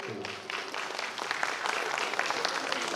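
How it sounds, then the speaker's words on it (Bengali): An audience at a stage performance applauds, a dense, steady wash of clapping from many hands that holds throughout at moderate loudness. "ওদেরকে হাততালি দিয়ে একটু উৎসাহ দিন।"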